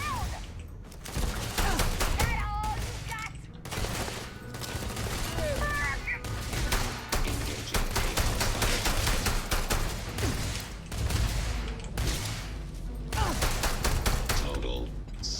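Weapon fire in the Starfield space game, sustained loud rapid gunfire and bursts of automatic shots with barely a pause, close and dense, with occasional faint voices beneath the shooting.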